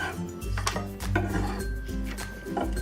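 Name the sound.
knife cutting green onions into 2-inch sections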